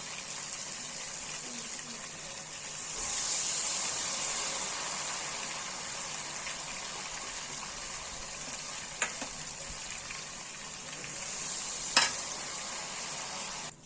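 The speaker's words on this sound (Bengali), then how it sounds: "ঘেভারটা দেখুন আমাদের ঠিক আমরা এখানে ঠিক ভাজছি" Ghevar batter deep frying in hot oil, a soft continuous bubbling sizzle with a few sharp clicks near the end, fairly quiet and steady throughout.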